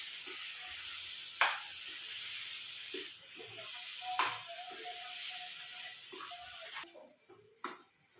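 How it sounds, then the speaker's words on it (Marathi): Mashed pav bhaji vegetables being stirred into masala in a kadhai, giving a steady soft sizzle with a few sharp spoon scrapes and knocks against the pan. "ती पण आता सगळी मी कढईमध्ये टाकून घेते आणि ही सगळी आता मसाल्यामध्ये एकत्र करणार आहे"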